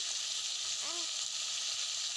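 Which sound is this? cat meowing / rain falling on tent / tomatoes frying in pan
tomatoes frying in pan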